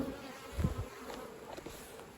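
Honey bees buzz faintly inside a stacked hive box, a low steady hum that swells briefly near the start before settling into a soft, continuous drone with no talking.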